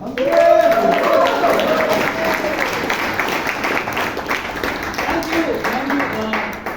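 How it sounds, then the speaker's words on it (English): An audience at a Toastmasters club meeting applauds as a speaker is welcomed, steady clapping with voices over it, a tone at the start and talk rising near the end. "Thank you for the fake applause."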